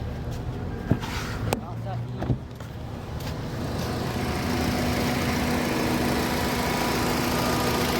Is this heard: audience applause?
no